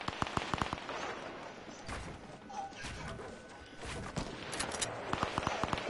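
Rapid bursts of Fortnite gunfire crackle in quick clusters at the start and end, sharp and fairly close, amid a noisy rumbling game soundscape.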